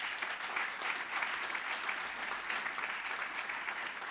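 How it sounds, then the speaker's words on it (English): Sustained applause from the audience at a diversity and equity awards ceremony, honouring students with over a 3.0 GPA, an even, continuous patter of many hands with no voices over it. "I think that deserves a round of applause"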